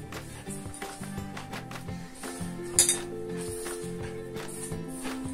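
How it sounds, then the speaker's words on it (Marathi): Modak dough for fried dry coconut modak being mixed by hand in a metal vessel, giving repeated clinks and scrapes against the pot over steady kitchen background sounds, with one sharper knock near the middle. "हे मी आता व्यवस्थित मिक्स करून घेते"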